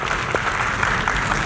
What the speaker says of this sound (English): A big round of applause for the speaker,